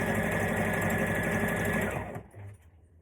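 A sewing machine runs fast and steady along a maxi skirt seam, a close, loud mechanical whir that stops abruptly near the end, leaving a brief quiet.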